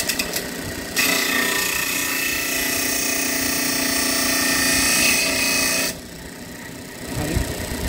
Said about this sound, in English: here is the machine that is operating. So you can take a sample and you can polish it like this